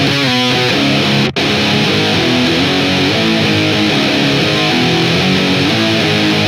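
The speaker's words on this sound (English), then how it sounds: "So overall, our tone sounds like this." A heavily distorted nu metal guitar riff built from two layered tones plays loud and dense throughout, with a quick muted chug at the start and a sustained wall of chords after a brief cut.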